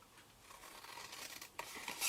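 Scissors snip through paper cardstock while a Stampin' Up! In Colour pinch box is being made: a close, dry, papery cutting texture that rises into a sharper crunch near the end, with no talking.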